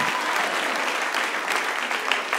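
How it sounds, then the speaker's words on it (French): A church congregation applauding during a sermon, a thick continuous wash of clapping from many hands at close range with no pause. "Applaudissez pour le Seigneur."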